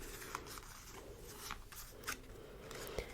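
Playing cards from the Doomlings card game are shuffled softly in a quiet room, each pile giving faint riffling and sliding sounds with a few crisp snaps, close up and with no talking.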